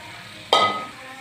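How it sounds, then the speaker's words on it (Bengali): Marinated chicken drops into hot oil in a pan with a sudden loud sizzle that bursts out and then slowly fades, alone with no talking. "এবার আমি চিকেনটা এর মধ্যে তুলে দেবো ম্যাগনেট করে রাখা চিকেন এর মধ্যে দিয়ে দেবো"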